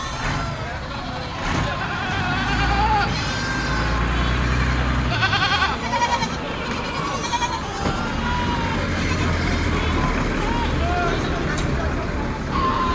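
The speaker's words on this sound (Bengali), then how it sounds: "দেখো ছাগল, দেখো ছাগল ভিতরে দেখো।" Goats bleat repeatedly amid a busy outdoor crowd at a livestock market in Beldanga, with people talking and engine noise in the background throughout.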